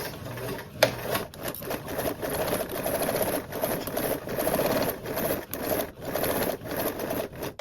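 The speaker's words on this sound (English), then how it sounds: "Now I'm going to sew from one point to the next, using a 1/4 seam allowance" A sewing machine stitches a quarter-inch seam between marked points, its needle running in steady bursts with brief pauses and restarts, close and clear.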